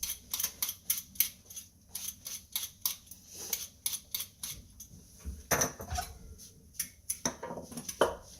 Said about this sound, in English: peel our other carrot